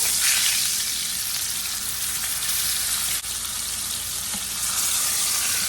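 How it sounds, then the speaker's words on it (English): A steak sears in hot grease in a pan, giving a loud, continuous sizzle that stays steady and close for the whole stretch, with no voices over it. "Now I'm gonna place my second steak in. We're gonna let this cook for 3 minutes."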